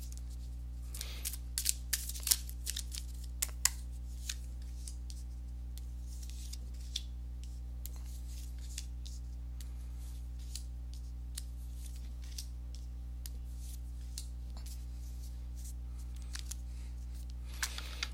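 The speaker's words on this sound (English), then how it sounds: "let me go ahead and give these cards a shuffle" Tarot cards are shuffled in quick papery riffles and soft snaps, scattered over roughly eighteen seconds above a steady low electrical hum.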